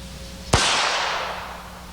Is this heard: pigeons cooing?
no